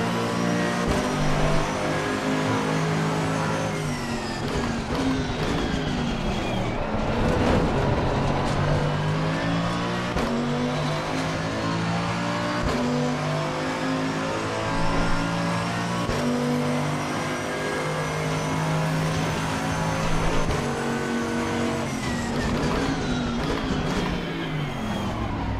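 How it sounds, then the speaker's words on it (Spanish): A GT2 race car engine in the video game Assetto Corsa Competizione roars continuously, revving up and down through gear changes with steady high-pitched whine. "La verdad que los sonidos de los coches están súper bien hechos"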